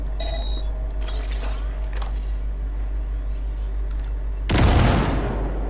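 A breaching grenade detonates in the Cyberpunk 2077 video game, a single loud broadband blast near the end that decays over about a second, preceded by quieter game tones and low background hum.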